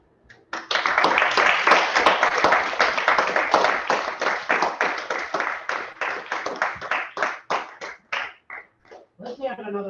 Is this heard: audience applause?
yes